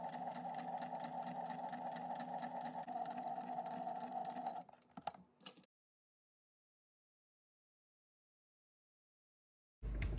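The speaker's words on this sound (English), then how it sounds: "I went ahead and did my second seam along the edge." A sewing machine runs steadily, stitching a seam along the edge of a fabric backpack for a dog harness, with a loud, even whirring drone close up. It stops abruptly, a few clicks follow, then silence until another burst of sound at the end.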